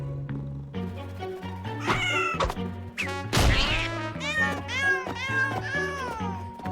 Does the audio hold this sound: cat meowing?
yes